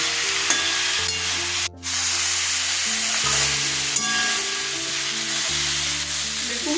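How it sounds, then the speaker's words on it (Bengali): Potatoes, eggplant and flat beans sauté in a pan for a vegetarian pea shoot stem curry, giving a steady close sizzle that runs throughout. A brief dropout breaks it near the start, and background music plays underneath. "আর মটর শাকের চাপাগুলো দিয়ে ঝোল করবো এগুলো একটু কষিয়ে নিয়ে ডাকাগুলো দেবো"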